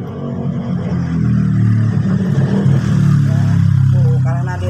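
A motorcycle passes outside, a sustained engine drone that swells and holds loud across the whole stretch, heard indoors with some faint background clatter.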